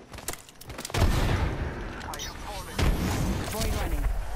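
A grenade explodes during an Apex Legends match, with loud rumbling booms and sustained blast noise near the listener, mixed with gunfire and a player's voice over the game audio.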